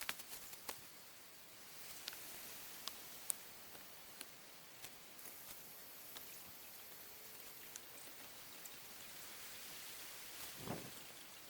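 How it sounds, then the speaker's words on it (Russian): Sparse raindrops tick and patter against a surface in a forest amid a steady soft hiss, scattered and irregular, like light rain just beginning. "Дождик все-таки начинается."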